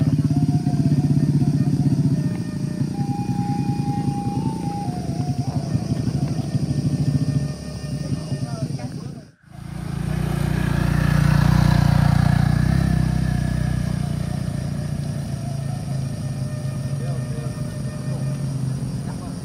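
A heavily loaded motorcycle roars loud and close, its engine held at high throttle as it climbs straight up a steep road, briefly cutting out before surging again with a deep rumble to the end.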